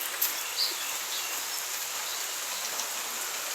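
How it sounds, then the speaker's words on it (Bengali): Light drizzling rain during the year's first monsoon shower, a steady soft patter and hiss throughout with no voices. "ঝিরঝির ঝিরঝির করে বৃষ্টি হচ্ছে"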